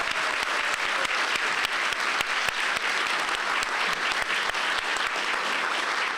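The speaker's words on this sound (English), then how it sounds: "Let's give another round of applause for Courtney Crown and Raphael Sanchez for coming here today" Dense, sustained applause at a police department honor awards ceremony fills the room evenly, many hands clapping close together without a break from start to finish.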